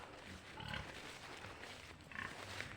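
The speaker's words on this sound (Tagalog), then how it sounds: "Yan po yung alagaan baboy nila." Pigs grunt in a farm pen, low, faint snorts and grunts scattered over a steady outdoor background.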